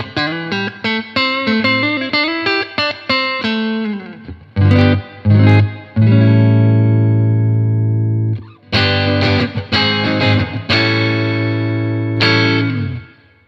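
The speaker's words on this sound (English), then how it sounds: "adjusting the amplifier controls for a moderate overdrive tone with reverb, I'll demonstrate a few tones and general riffs" A Squier Telecaster Debut electric guitar plays riffs through an amplifier set for moderate overdrive with reverb, mixing quick picked note runs with ringing sustained chords and pauses.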